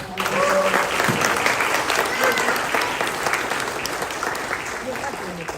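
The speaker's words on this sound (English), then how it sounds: "Please give them a round of applause." An audience at a school ceremony applauds steadily for several seconds with a dense wash of clapping, and some voices are faintly audible beneath it.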